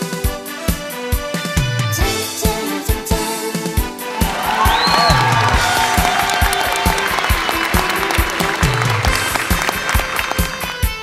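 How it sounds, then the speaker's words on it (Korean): Audience at a Korean guest-singer concert claps in rhythm over loud live music, the regular beats running the whole length while the band plays on. "박수 많이 주세요."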